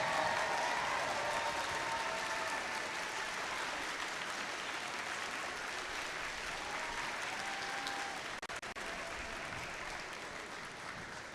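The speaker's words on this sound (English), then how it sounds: "let's give them a huge round of applause" An audience at a Gwinnett County school district competition event gives sustained, even applause for Dean's List nominees, a dense wash of clapping that stays loud and steady throughout.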